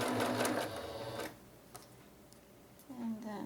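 A sewing machine stitches elastic onto a fabric scroll rod cover, its fast, steady motor whir loud at first, then stopping, with a quieter burst of stitching near the end.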